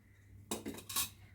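A spoon clinks twice against a pan as a spoonful of ghee goes in, two quick, bright metallic taps close by after near-silence.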